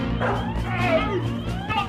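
Dogs barking and yelping in a cartoon scene, several quick overlapping barks and whimpers, fairly loud and close under a busy background.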